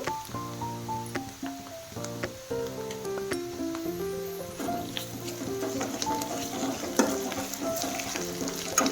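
Chopped onions and paste frying in oil for a chicken gravy give a soft, continuous sizzle with occasional stirring scrapes, partly masked by melodic background music that plays throughout.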